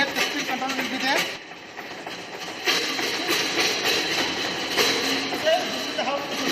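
A single-cylinder four-stroke petrol engine on a lab test rig runs continuously with a loud, steady, rattling drone while someone talks over it.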